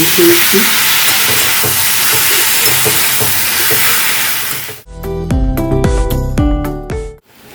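Peanut paste hits hot oil in a pan while cooking kudri, giving a loud, steady sizzling hiss, followed by clattering stirring and scraping sounds with a few brief bumps.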